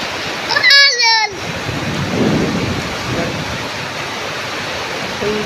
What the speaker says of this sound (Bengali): সেরা বৃষ্টি হচ্ছে, এবং সাথে বজ্র বৃষ্টি বাতাস সহ